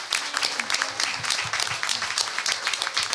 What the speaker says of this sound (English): why don't we give everyone a round of applause?